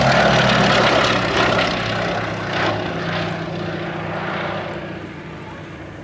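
A WW2-era propeller aeroplane at an Old Warden airshow, its piston engine droning loudly and steadily overhead, slowly fading a little as it passes, with no voices.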